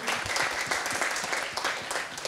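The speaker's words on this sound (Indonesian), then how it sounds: "Tepuk tangan dulu untuk kita malam ini" Evening audience at a Jakarta public transport talk gives a short burst of applause, a brisk dense clapping close by and with no talking.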